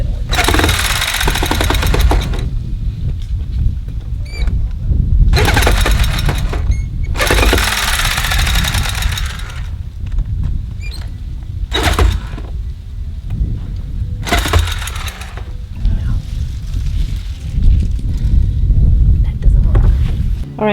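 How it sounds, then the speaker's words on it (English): A jigsaw bounces against a plastic barrel as it tries to cut, giving several loud, harsh buzzing bursts of a few seconds each, separated by a lower rumbling background. "I used a jigsaw and that didn't work. It just bounced, as you could see."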